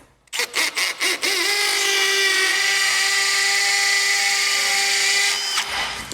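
A power drill drives Tapcon concrete screws while mounting a lift bike rack in a garage, starting with several short bursts, then a loud, steady whine that runs for about four seconds before winding down.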